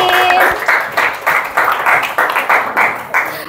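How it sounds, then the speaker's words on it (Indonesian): A classroom of students applauds a student group after a math presentation, clapping loudly in a rhythmic, patterned unison beat with short pauses between bursts. "Tepuk tangan lagi dong untuk kelompok yang tadi."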